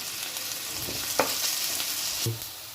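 Curry leaves crackling in hot oil for a tomato egg curry, a continuous close sizzle with a couple of sharp pops and light utensil knocks, no one speaking.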